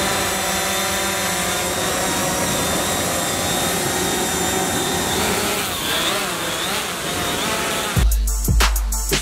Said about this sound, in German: Jetzt lassen wir die Drohne fliegen.